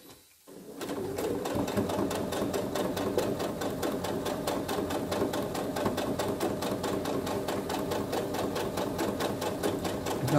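Sewing machine stitching a fabric coin purse, a steady rapid mechanical needle rhythm running continuously and close up after a brief quiet start, with no talk.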